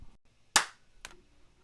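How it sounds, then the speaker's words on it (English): A single sharp hand clap, close and loud, standing out from near silence, followed about half a second later by a quieter second slap. "sorry for the clap"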